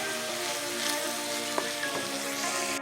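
Minced meat stew with tomato paste being stirred in a hot pan, a steady close sizzle and crackle broken by a few soft scrapes of the spoon.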